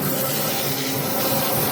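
A garden hose sprays water onto a turkey being plucked outdoors, giving a steady close broadband hiss with no break across the whole stretch.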